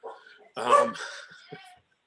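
A pet dog barks and yips at home during an online committee meeting, a loud close bark followed by a few softer whimpering yelps, with a voice faintly present around it.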